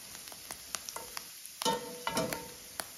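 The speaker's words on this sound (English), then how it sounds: "But giving these things plenty of butter frying." Soft sizzling of morel mushrooms frying in butter in a pan, with scattered pops and crackles and a few louder bursts of spitting fat partway through.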